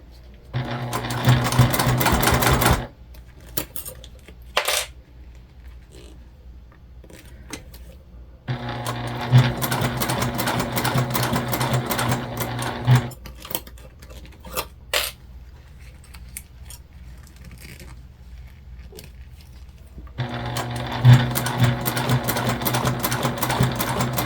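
A domestic sewing machine stitches the Aida mini bag in three loud bursts of steady running, separated by quieter pauses that hold small clicks and handling noises.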